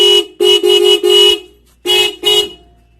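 A Suzuki Access 125 scooter's Roots Vibromini horn sounds a loud, close, car-style pattern: four rapid honks, a brief pause, then two more.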